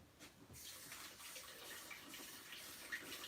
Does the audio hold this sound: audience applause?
no